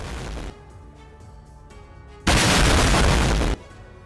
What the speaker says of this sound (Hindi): ड्रोन से ग्रेनेड अटैक कर हमास ने इजरायली टैंक को निशाना बनाया है